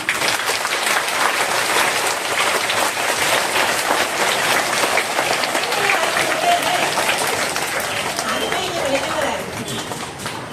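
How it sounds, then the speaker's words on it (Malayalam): A school audience applauds for a student, a loud, dense burst of many hands clapping continuously for about ten seconds, easing slightly at the end. "അപ്പോ ഈ വലിയ നേട്ടത്തിന് നമുക്ക് മുകുന്ദയ്ക്ക് ഒരു വലിയ കയ്യടി കൊടുക്കാം"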